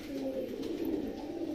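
Domestic pigeons kept for pigeon flying in Lucknow coo steadily and softly, a continuous low burbling chorus close by with no talking.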